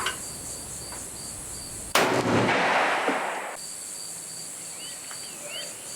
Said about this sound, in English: I'm shooting a scout rifle 223, and just to see if it's shooting where I want it to shoot.